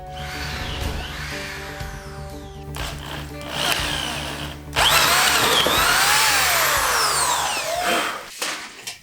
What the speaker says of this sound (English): we got to drill all the holes